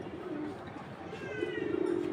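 Pigeon softly cooing, low and somewhat distant, in a repeated throaty murmur through a short stretch with faint background noise.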